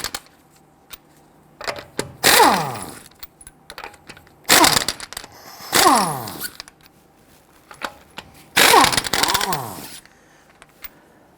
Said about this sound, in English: Using a 21mm socket, loosen and remove your lug nuts.